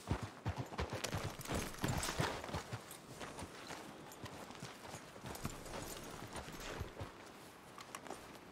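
Horse hooves clip-clop steadily in Red Dead Redemption 2, a brisk rhythm of several horses moving along close by, with light ambient noise and no talk.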